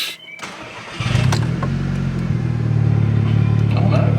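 A SEAT Leon Cupra with 129,000 miles cranks briefly and fires into a steady, loud idle up close, with a short rev partway through.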